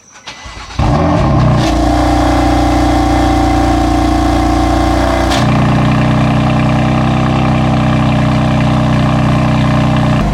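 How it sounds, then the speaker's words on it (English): A BMW M4 engine cold-starts, cranking and firing up with a loud roar, then settles into a rumbling high idle with a deep, steady exhaust drone. "Let me do a cold start for you guys."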